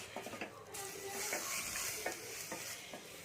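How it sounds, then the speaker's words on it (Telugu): Chicken hitting a pan for daliya chicken pulao, cooked with very little oil, gives a quiet sizzle after a few light clinks and scrapes, close but faint. "ఈ చికెన్ కూడా వేస్తున్నాను."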